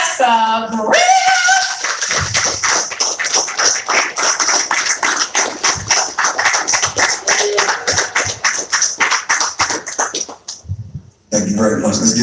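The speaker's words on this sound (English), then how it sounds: "Can you put your hands together for Professor Griff?" An audience claps for Professor Griff at a live event, brisk rhythmic clapping close and loud for about ten seconds before it fades. A voice speaks at the start, and speech returns at the end.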